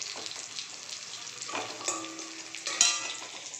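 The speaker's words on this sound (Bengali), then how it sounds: "তো ভালো করে নাড়াচাড়া করে নেব" Cashews and onion masala sizzle in a pan while a spoon stirs them, soft frying crackle with light scraping strokes, quiet and close with no talk.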